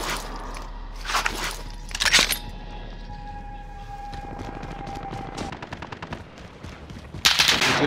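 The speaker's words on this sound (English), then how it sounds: "They're shooting at me." Call of Duty Warzone battle royale gunfire, bursts of automatic shots, some close and sharp, others distant and rattling, with a faint tonal whine in the middle and a loud burst at the end.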